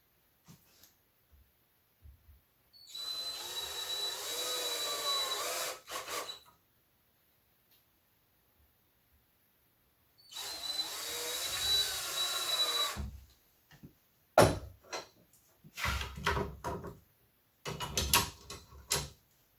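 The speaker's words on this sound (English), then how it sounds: "Let's put some screws in." A power drill drives screws into wood while a workshop is being organized: two sustained whirring runs of about three seconds each, then several short, sharp bursts and taps, loud and close with no talking.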